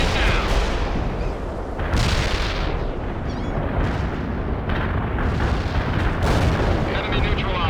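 Heavy artillery barrage in the World in Conflict strategy game: a dense, continuous roar of booming explosions and blasts running throughout, loud and close, with battlefield radio chatter faintly mixed in.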